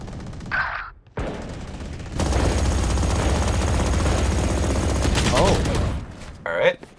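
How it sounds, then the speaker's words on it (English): Dense bursts of gunfire from the Valorant video game during a tournament match swell into a loud sustained barrage lasting several seconds, with commentators' voices heard around it. "Did not hear the dash over the sound of the gunshots."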